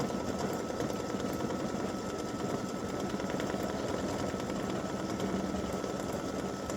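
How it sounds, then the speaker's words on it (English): An in-the-hoop embroidery machine stitches underlay for a Valentine's Day mug rug side panel, a steady, dense mechanical whir that runs close and unbroken throughout, with no voices. "I'll let you see how it goes around and starts doing the stitching"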